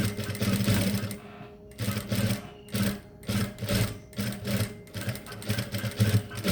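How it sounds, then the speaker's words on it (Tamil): A sewing machine stitches fabric in quick bursts, its rapid mechanical whirring starting and stopping every second or so, close and fairly loud. "இதுக்கு நாங்கள் டபுள் தையல் போடணும்"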